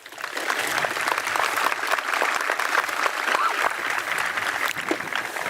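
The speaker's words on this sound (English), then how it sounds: "Please give them a round of applause." An audience at a high school gathering applauds board members, with dense, even clapping from a sizable crowd. The sound is fairly loud and holds steady for several seconds, and a faint murmur of voices sits underneath it.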